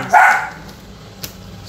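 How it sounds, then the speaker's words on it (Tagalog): A dog gives one loud, close bark near the start, then a faint knock follows later over quiet background, outdoors near a home garden. "Sobrang ingay ng aso"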